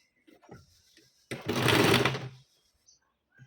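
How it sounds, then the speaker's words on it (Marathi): A sewing machine stitches piping on a blouse in one short rapid burst of about a second, loud and close, with quiet sounds before and after. "मी इथे टीप मारून घेत आहे."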